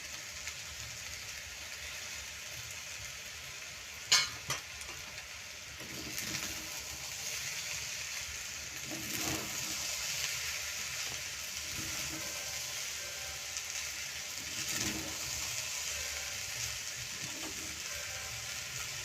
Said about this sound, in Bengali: এরপর 1 চামচ ঘি নিয়ে মাখিয়ে নেব।